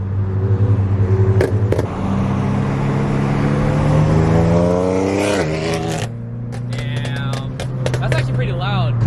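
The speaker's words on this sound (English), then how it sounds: "This thing is burbling like crazy." A Subaru BRZ exhaust burbles and pops while driving, the engine note climbing steadily under acceleration before a shift, heard from inside the car with voices talking over the drone.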